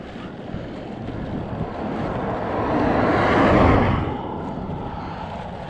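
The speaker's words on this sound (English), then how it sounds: "Wind is pretty strong when you're out on the open like this." Strong wind blows across open ground in New South Wales, a loud continuous rushing roar buffeting the microphone and swelling to a gust in the middle before easing slightly.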